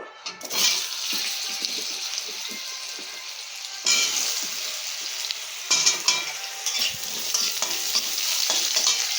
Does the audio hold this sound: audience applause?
no